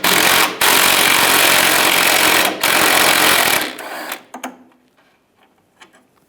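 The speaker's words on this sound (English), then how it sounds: "Using a 13mm socket, take this nut off." A power ratchet or impact tool drives a 13mm socket to remove a nut while replacing the charcoal canister on a 2007-2013 Chevrolet Silverado 1500, buzzing loudly in three close bursts before stopping, followed by a few faint clinks.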